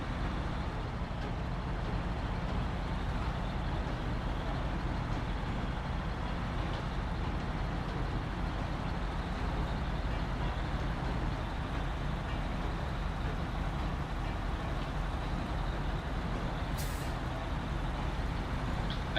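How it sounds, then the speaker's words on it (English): A GMC truck engine in the video game SnowRunner rumbles steadily and loudly throughout, a dense continuous drone with no voices. "the supposed engine sound of these GMC trucks"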